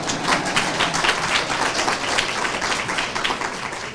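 Crowd applauding during a mayoral campaign launch speech in Orlando: dense, continuous clapping from many hands at a fairly even level throughout.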